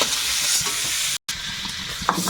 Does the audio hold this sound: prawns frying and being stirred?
yes